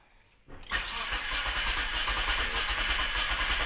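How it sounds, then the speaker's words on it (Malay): A Proton Perdana V6 with bent valves after a snapped timing belt cranks briefly and then catches, settling into a loud, rough, steady running note close by. "Engine ada berat, sedikit mau hidup. Kasar bunyi."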